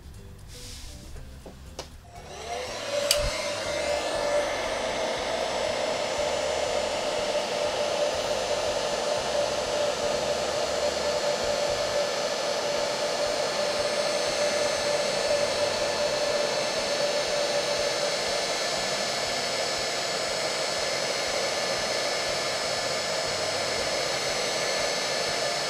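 A hair dryer aimed at linen fabric to erase heat-erasable pen ink blows steadily and loudly, a constant whooshing hum with a high whine that runs without pause after a brief click at the start.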